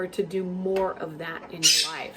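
Pet parrots at home let out a brief, shrill squawk in the background while a person talks steadily in the foreground.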